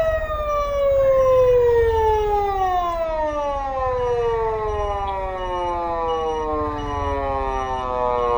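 An ambulance siren wails in a slow, falling sweep, loud and fairly close, as the vehicle sits stuck in a traffic jam, with a low rumble of traffic beneath.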